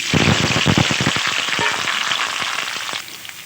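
Small boiled potatoes hit hot oil in a pan while aloo dum is being cooked, giving a loud, crackling sizzle with sharp spatters. It eases into a softer fry and tails off near the end, with no talking.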